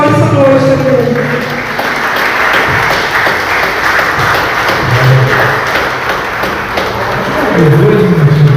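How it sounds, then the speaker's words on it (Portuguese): A church congregation applauds through a worship service, sustained dense clapping filling the room, with voices rising under the applause. "E a igreja aplaude o Senhor nessa noite"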